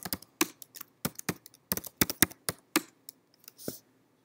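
Fingers type a login password on a computer keyboard, a close, irregular run of sharp key clicks in short bursts with brief pauses, no talking.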